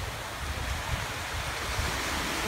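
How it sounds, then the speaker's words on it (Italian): Sea waves washing onto the sandy shore of the beach at Chia, a steady, close, hissing surf with no voices. "il mare"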